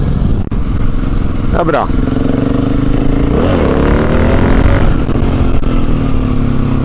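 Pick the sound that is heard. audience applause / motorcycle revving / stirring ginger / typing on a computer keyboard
motorcycle revving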